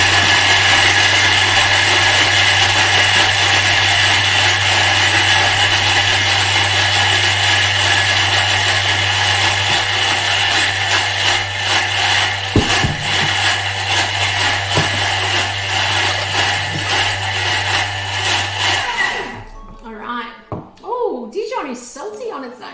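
A Thermomix food processor spins at speed 8 while making a shredded chicken and sweet potato salad. Its loud, steady motor whir runs for about nineteen seconds, then cuts off abruptly, leaving quieter handling sounds and a voice.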